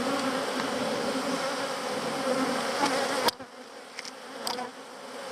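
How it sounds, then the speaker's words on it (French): Honeybees buzz steadily on a hive frame that is being turned by hand, a dense close drone that thins abruptly partway through, leaving quieter scattered buzzing with a few sharp clicks. "je regarde les abeilles qui essayent de se barrer, qui se cachent"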